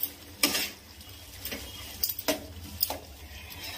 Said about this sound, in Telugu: ఇది వేసుకున్న తర్వాత ఒక్కసారి కలుపుతున్నాను